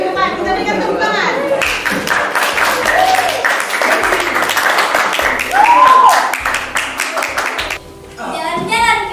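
A classroom of students claps for a group stepping up to present, a steady broadband patter of many hands lasting several seconds, with children's voices and chatter mixed in and a brief lull near the end.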